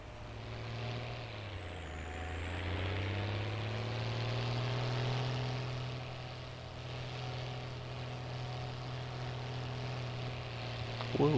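A tractor in Farming Simulator 19 rumbles along with a steady engine drone whose pitch dips briefly early on, then holds and wavers slightly as it keeps driving.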